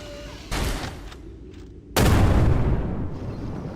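Sniper cannon shots in the Dolls Nest video game: a sharp heavy blast with a decaying tail, followed by a second, louder booming shot with a long rumbling echo, no talk.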